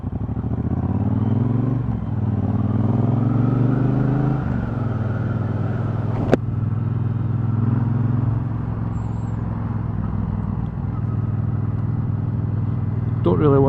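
A 2018 Triumph Bobber 1200 motorcycle rides on wet roads, its engine droning steadily and close with rises and dips in revs and one sharp clack, while someone talks over it throughout.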